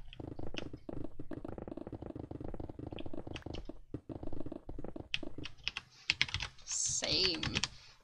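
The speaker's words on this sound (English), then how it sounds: "normally I'll edit out my keyboard noises when I type to people in chat" Close computer-keyboard typing comes in quick irregular bursts of clicks and key taps during a chatty gaming session, with a person talking between and over the keystrokes and a sharp higher-pitched sound near the end.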